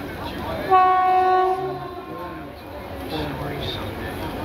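Shahid Express train passing a station on the Howrah line, a loud horn blast with clear steady tones ringing out over rolling rail noise, then the rumble of the passing cars, with people talking nearby.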